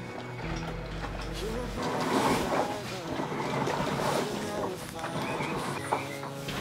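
A sailboat motors in to anchor with its engines running under a steady low drone, while wind buffets and water washes around the hull; people talk over the noise.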